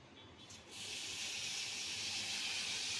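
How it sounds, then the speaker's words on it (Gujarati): Milk poured slowly into hot melted sugar sets off a loud, steady, close sizzling hiss that starts abruptly after a brief quieter moment and continues unbroken, with no talking. "હવે આપણે દૂધ એડ કરીશું"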